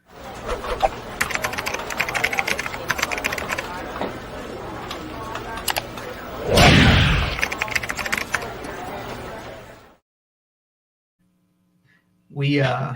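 Fast typing on a computer keyboard: rapid, close, irregular key clatter runs for about ten seconds with a louder burst partway through. It is followed by silence and then the start of another sound.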